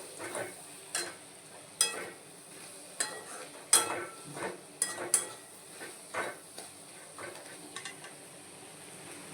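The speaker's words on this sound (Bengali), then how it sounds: "এবার আরেকটু ভাজা ভাজা করবো" Grated ginger paste fries and is stirred in a pan, quiet sizzling under a series of sharp spoon scrapes and clinks against the metal at an irregular pace.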